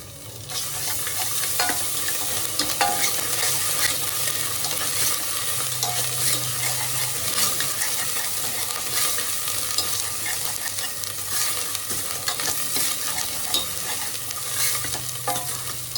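Garlic and ginger sizzling in hot oil for banana stem soup, stirred steadily in a pan, a constant close frying hiss with scraping strokes throughout and no talk.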